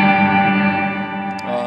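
A sustained guitar chord passes through an Electro-Harmonix Cathedral pedal on its hall reverb setting, ringing with a long, spacious wash that slowly decays, close and clear with no talking.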